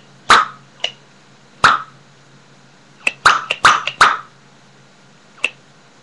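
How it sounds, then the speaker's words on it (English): Sharp, loud pops from a homemade cork gun, fired singly and then in a quick burst of several shots, with short gaps between them and no talking. "It's a cork gun, see? And then you see the corking? It makes really loud pops."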